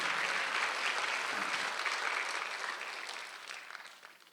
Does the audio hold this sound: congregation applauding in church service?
yes